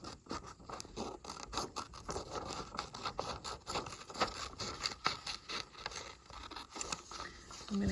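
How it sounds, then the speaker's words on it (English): Scissors cut slowly through paper along dashed lines, a row at a time, giving a steady run of close, soft snips and scraping rustles that last throughout, with no talking. "I'm cutting nice and slow so I can stay on these little dashed lines"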